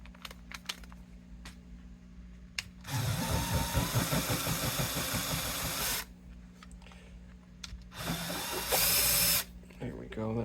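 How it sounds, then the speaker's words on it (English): A Bosch power drill countersinks screw holes for a Kahler bridge on a BC Rich bass, running in two steady bursts of a few seconds each, close and loud, with clicks and handling noise between. "Now we're going to countersink that because we're going to need our screws to set below the top of that."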